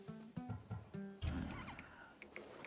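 A horse whinnies in Assassin's Creed Odyssey, a loud, close, shaky neigh followed by a breathy snort and game ambience, with no talk over it.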